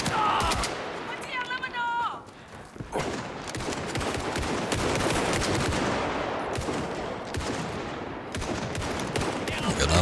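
An automatic gun firing in Indiana Jones and the Great Circle rattles in loud, rapid bursts almost throughout, with a brief lull early on and a voice mixed in under the shooting.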